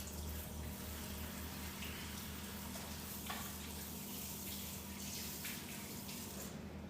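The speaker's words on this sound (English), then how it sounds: "We're gonna wash our hands." A tap runs steadily into a sink for hand washing, giving a soft, even hiss of flowing water with faint splashes and no speech.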